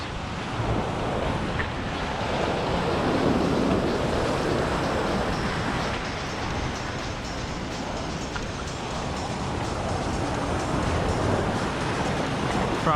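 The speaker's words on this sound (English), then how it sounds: "Probably gonna get slapped a few times with some waves" Ocean waves break on the beach at Far Rockaway in a constant, loud roar of surf, with gusts of wind buffeting the microphone and no talking.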